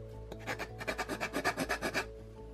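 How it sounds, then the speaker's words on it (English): A steel rasp scraping across wood in about a dozen quick rhythmic strokes, close and fairly quiet, with no talk. "it's scraping something"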